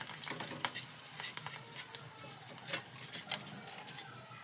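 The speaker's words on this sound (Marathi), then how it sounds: "पहिला पापड तेलात टाकला" Potato and sago papad frying in hot oil, turned with a spoon, makes a busy crackling sizzle with frequent bright pops and scraping stirs, close and fairly loud, with no clear speech.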